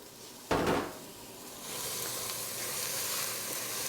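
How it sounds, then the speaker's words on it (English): Capsicum dropped into a hot pot of olive oil and garlic gives a sudden loud burst of sizzling, which settles into a steady, even frying hiss that continues to the end. "We roast those capsicum for about 2 minutes."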